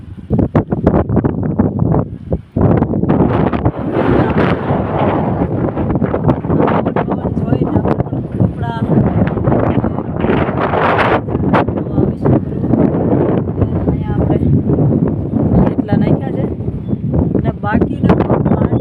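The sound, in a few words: strong wind during rain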